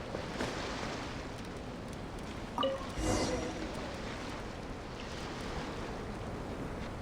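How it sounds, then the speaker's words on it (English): Water draining away as a pool's level drops in Genshin Impact: a steady, broad rushing wash with a brief swell partway through. "seems that the water level has suddenly decreased."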